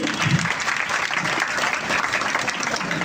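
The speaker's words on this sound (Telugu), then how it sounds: "ఒకసారి గట్టిగా సార్ క్లాప్స్ కొట్టండి" Students at a school Independence Day celebration clap together in a steady, dense burst of applause, fairly close and sustained throughout, with faint crowd murmur beneath.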